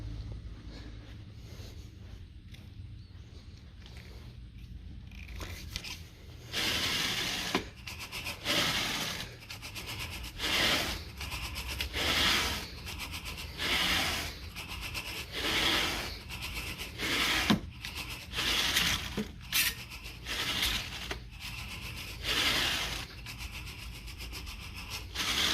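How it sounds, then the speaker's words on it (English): Carpet raking after a Scotchgard protector treatment, with repeated scratchy rubbing strokes across the pile in bursts of a second or two, close and moderately loud, over a faint steady low hum. "time to rake the carpet out now that the Scotchgard's been applied"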